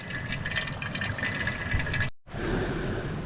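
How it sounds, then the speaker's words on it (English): Water pours steadily into a Millbank filter bag outdoors, collected for boiling: a continuous close splashing rush with a brief break near the end before it resumes. "So starting now to collect water, ready for boiling."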